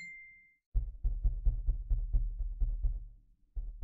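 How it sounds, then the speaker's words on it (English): Someone taps repeatedly on the metal boom arm of a HyperX QuadCast LED microphone, producing a series of about ten dull, close thumps in an uneven rhythm with short gaps. "Let's see if I tap on the bar if it makes sounds."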